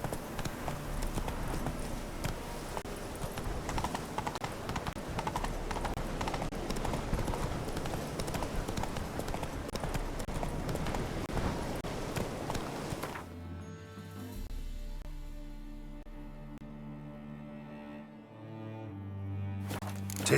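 Roach, the horse in the Witcher 3 video game, gallops with rapid rhythmic hoofbeats over a continuous layer of game sound for about thirteen seconds, then slows as the din drops to quieter ambience and music.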